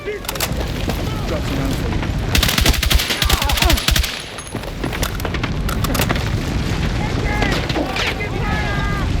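Gunfire in the video game Battlefield 6, bursts of rapid automatic shots and sharp booms up close, with game voice callouts mixed in among the shooting and ambient battle noise.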